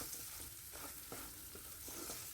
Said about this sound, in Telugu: ఇలా పిండుకొని ఇందులో వేయండి. వేసి ఒక 5 మినిట్స్ వరకు వేయించుకోండి.